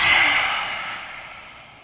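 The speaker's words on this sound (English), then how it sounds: "Stick your tongue out, lion's breath." A long, forceful lion's breath exhale with the tongue out during a yoga class, one loud close breathy rush that fades gradually.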